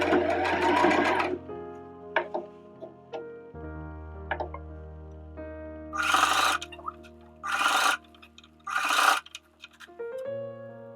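A sewing machine stitches along a trouser leg during an alteration from bootcut to ankle grazer, running in several short bursts with pauses between, close and clear, with a faint hum underneath.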